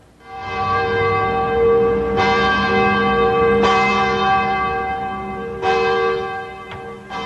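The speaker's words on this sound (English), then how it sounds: "church bells rang throughout the city for 5 minutes during the noon hour" Church bells ringing out across a city at noon, loud and resonant, several strikes at uneven intervals, each tone lingering and overlapping the next.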